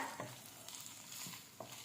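Sesame seeds roast in a pan for sago khichdi with a soft, steady sizzle, broken by a few scraping stirs of a spoon at intervals, close and fairly quiet.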